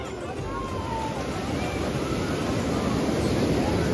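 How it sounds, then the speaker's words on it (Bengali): Sea waves breaking on Digha beach, a broad steady roar of surf with wind rush at the microphone, constant and fairly loud, with people talking faintly in the background. "সে দূরের ঢেউটা কিন্তু অনেকটাই বড় আছে"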